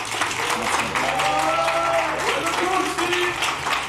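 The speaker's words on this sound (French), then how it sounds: "applaudissez-le s'il vous plaît" Audience applause on a French YouTube game show set, a broad sustained wash of clapping with a voice speaking over it and some music-like tones underneath.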